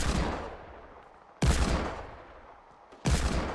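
Gunfire in the video game Fortnite: three loud, sharp shots at roughly 1.5-second intervals, each trailing off into a long echoing decay, with no talking.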